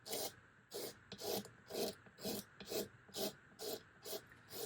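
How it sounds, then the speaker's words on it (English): A damp paper towel is wiped over the dried-out, grimy body of an acoustic guitar, about ten even back-and-forth rubbing strokes, close and fairly soft. "a damp paper towel, not a sopping wet one. And go over it, and a lot of times it'll clean off a lot of dirt and grime"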